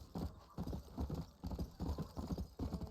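Horse hooves clip-clop steadily in the Red Dead Redemption video game, a quick, even trotting rhythm of soft thuds heard close and alone for a few seconds.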